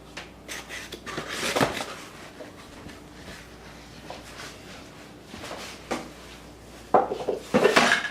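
Dishes and cutlery being cleaned up in a home kitchen while roti cooks, with scattered clinks and clatters of pots, plates and utensils, a busy burst near the start and louder clattering toward the end, no talking.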